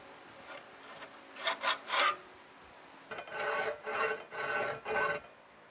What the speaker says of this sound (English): I remembered that just as I was finishing this cut by dragging a hacksaw